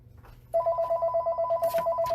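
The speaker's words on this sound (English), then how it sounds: "why does the phone have to ring when I'm doing Facebook Live?" A telephone rings in a steady series of rapid electronic trills, loud and close, starting about half a second in and continuing to the end over faint room noise.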